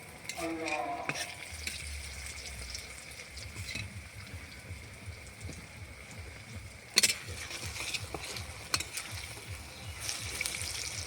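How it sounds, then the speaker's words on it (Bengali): Potato chops (aloo chop) deep-frying on a stove, a close, steady sizzle and bubbling with a few sharp clatters and splashes, including one loud knock mid-way. "অনেক কটা হয়ে গেছে যে ভাজা হয়ে গেছে আর কটা উনানে আছে"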